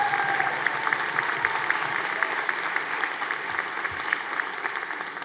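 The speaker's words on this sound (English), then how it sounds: "Please, another big round of applause for all of them." At a university commencement ceremony, a large audience gives sustained, even applause, a thick patter of many hands clapping with scattered sharper claps standing out from the crowd.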